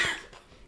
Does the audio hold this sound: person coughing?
yes